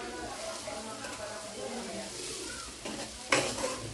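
Tomatoes hitting plenty of hot oil while cooking shrimp paste, a steady sizzle with stirring and scraping in the pan, and a sharper clatter near the end.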